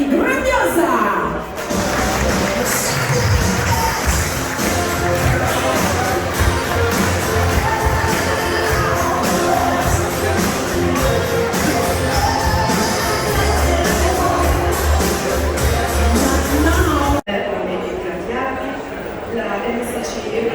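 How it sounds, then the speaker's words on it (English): Crowd applause and cheering for the master and officers aboard the MSC Grandiosa cruise ship, a dense, sustained roar of clapping and shouts with music underneath, dropping suddenly near the end. "a big applause for the master and the officer of MSC Grandiosa"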